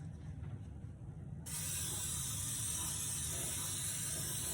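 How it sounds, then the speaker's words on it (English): A steady hiss of cooking spray into a cake pan starts abruptly and continues evenly without pause, close by and fairly loud. "you spray your pan"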